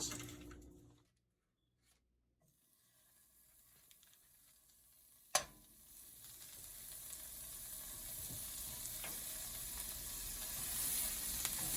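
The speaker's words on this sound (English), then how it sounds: "I'm gonna put a piece of butter in the pot." A piece of butter melting in a pot for a Jamaican-style French toast omelette, starting near silent, then one sharp clink, then a soft sizzle that slowly grows louder.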